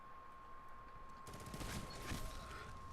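Hand cannon fire in the Destiny 2 Crucible, a fairly quiet burst of rapid, crisp shots and overlapping gunfire that begins partway through and continues under the game's background sound.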